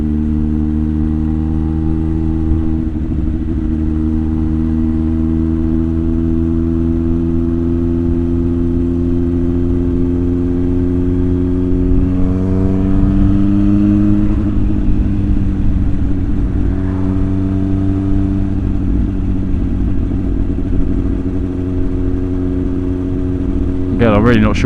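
A 110cc motorcycle engine drones steadily throughout while riding, with a deep, throbbing exhaust note, the pitch rising as it accelerates partway through and later settling.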